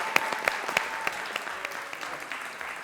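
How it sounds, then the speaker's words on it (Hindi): Studio audience on a Pakistani comedy talk show claps enthusiastically, a dense burst of applause with sharp individual claps standing out early, then gradually thinning toward the end; no talking over it. "जोरदार तालियां यार, इतनी ऐसी।"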